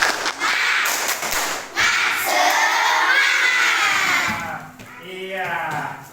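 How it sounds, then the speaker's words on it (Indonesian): A class of children clapping and shouting together, a dense, loud wash of applause and excited voices that swells, dips briefly, then carries on and fades near the end. "kita kasih aplaus dulu"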